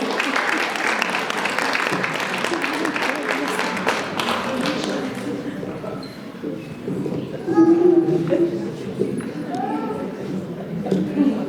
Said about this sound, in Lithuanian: Pasitinkam plojimais.